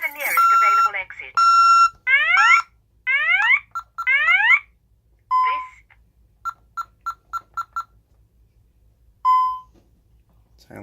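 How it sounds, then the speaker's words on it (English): A Tyco/ADT Safewatch Pro 3000EN fire alarm panel sounds during a test, sending out sweeping whoop tones, steady beeps and a run of short pulsed chirps, loud and close, with spoken announcement phrases between the tones. "This is a fire alarm."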